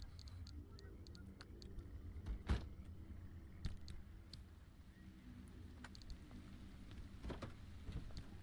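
Steady rain hisses softly and continuously in the Pacific Drive game, low and distant with faint patters and a few scattered clicks and knocks over a rumbling undertone.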